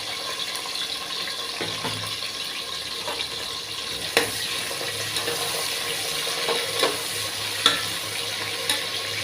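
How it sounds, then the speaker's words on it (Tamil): Onions and green chillies frying in oil in a pan for butter bean biryani: a continuous loud hiss and sizzle close by, with occasional light stirring knocks and no talk. "வெங்காயமும் பச்சை மிளகாயும் போட்டுக்கிறோம்."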